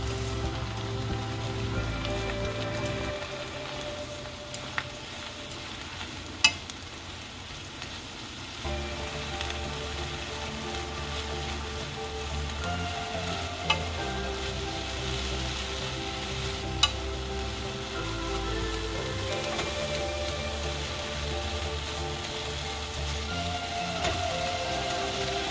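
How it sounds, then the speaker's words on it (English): Garlic stems stir-fry with dried shrimp in a hot pan, a continuous dense sizzle with scraping stirs and occasional sharp clinks of the utensil against the pan. "Add a dried shrimp and give it a stir."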